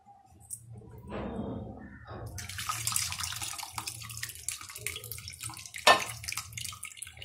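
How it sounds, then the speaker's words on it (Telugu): Water is poured into a pot of Kerala-style radish sambar with dal and tamarind juice. It begins as a soft trickle and then becomes a steady, splashing pour that runs on for several seconds, close by, with no talking. "వన్ గ్లాస్ వాటర్ యాడ్ చేసుకోండి"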